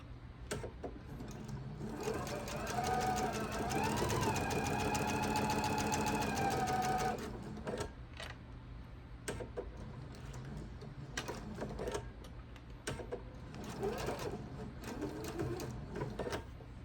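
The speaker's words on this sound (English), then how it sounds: "you're going to stitch a scant 1/4 of an inch all the way across there" A sewing machine stitches a quilt seam for a Mill Wheel block in a steady close whirring run, then stops and gives way to faint handling clicks and a few short stitching bursts.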